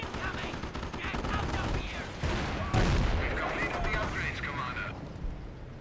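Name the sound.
Commando artillery fire in the video game Company of Heroes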